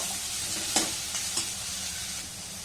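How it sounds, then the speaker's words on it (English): Steady sizzle of bottle gourd pieces frying in hot oil in a kadai, close and continuous, with a couple of brief stirring clinks partway through. "Bottle gourd pieces add to this. Fry for a minute."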